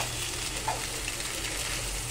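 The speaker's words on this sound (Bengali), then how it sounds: "এখন নুডলসটাকে সবজির সঙ্গে খুব সুন্দরভাবে মিশিয়ে দিতে হবে।" Egg noodles tossed with vegetables in a hot pan give a soft, continuous low sizzle with a faint scrape partway through, quiet and unbroken by any voice.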